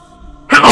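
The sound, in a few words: sneeze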